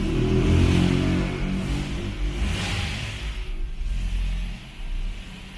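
A Ford Focus running on ethanol revs hard during a fuel pump test, its engine roaring loud and close throughout before easing slightly toward the end.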